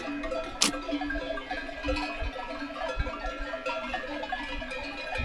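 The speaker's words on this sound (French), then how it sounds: "Je sais pas s'ils ont chacun une cloche. Ça fait un beau concert." Small bells worn by a flock of grazing sheep on a Pyrenean mountainside clink and jingle continuously, a scattered, irregular tinkling from several animals at moderate distance, with one sharper nearby clank early on.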